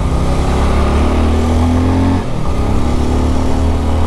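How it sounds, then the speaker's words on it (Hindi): Bajaj Avenger 220 BS6 cruiser motorcycle engine and exhaust revving steadily up close, a loud continuous drone that briefly dips midway before climbing again, with no talking. "exhaust note is very good,"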